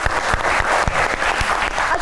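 A studio audience claps steadily for the whole short stretch, a loud close wash of applause with a few sharper individual claps standing out.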